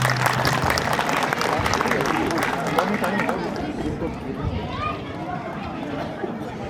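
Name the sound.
audience applause for children's performance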